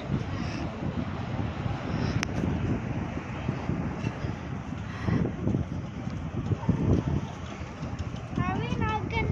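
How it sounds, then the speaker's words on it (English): Strong gusty wind blows outdoors, roaring and buffeting the microphone in a continuous rough rush while people talk and exclaim beneath it. "Horrible windy."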